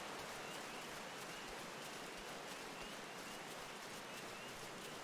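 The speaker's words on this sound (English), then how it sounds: "It sure is raining in the Shroud." Continuous rain in the Shroud woodland of Final Fantasy XIV: an unbroken, full hiss of falling drops with faint patter at a steady loudness and no talk over it.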